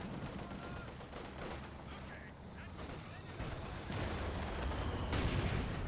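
A GR34 mortar in the Company of Heroes 2 battle game fires shells amid a constant din of gunfire and blasts, with a commentator talking over the action.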